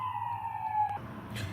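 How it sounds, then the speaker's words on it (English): An ambulance siren from a nearby hospital wails faintly in the distance, one falling tone that fades out partway through, with quiet room noise around it. "I live by a hospital, the little siren."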